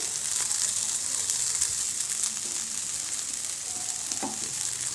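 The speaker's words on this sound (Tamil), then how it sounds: "நல்லா வறுத்தாச்சு நல்லா ட்ரை ஆகிடுச்சு நல்லா சுருண்டு வந்துருச்சு பூ" Chopped banana flower fries in a pan with a steady, bright crackling sizzle, moderately close, with faint stirring scrapes and no talk.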